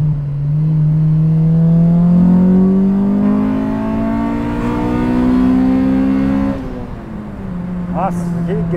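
Honda Civic fitted with a swapped naturally aspirated B16 VTi engine, revving hard with a loud, close, steadily climbing scream for several seconds before the pitch drops off, a voice briefly audible near the end.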